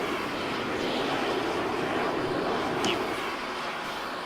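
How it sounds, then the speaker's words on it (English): Jet afterburner roar in the PlanetSide video game, a continuous broad rushing blast held at steady loudness, with a brief sharp zip near the end. "that afterburner is all sorts of nasty"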